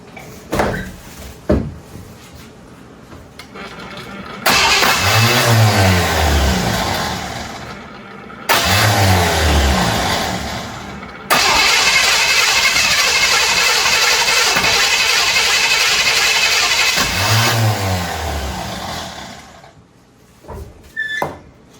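An old classic car long abandoned in the Maine woods cranks loudly off a jump pack in several long bursts, the starter whirring and the engine catching and sputtering between pauses, close up with no talk.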